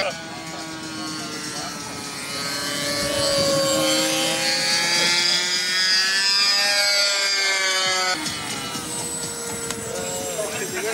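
A radio-controlled Dragonfly model plane flies at a float fly on a dam, its engine a loud, steady whine that rises and dips in pitch as it passes, with people talking nearby.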